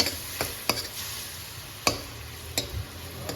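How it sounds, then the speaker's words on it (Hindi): Spices and tomato being stirred and fried in a pan for aloo gobi, a soft steady sizzle under a few sharp scraping knocks of a spoon against the pan, with no voices. "तो ये चीज़ें डाल के थोड़ा सा मैं इसकी भुनाई करूँ, मिक्स करूँ।"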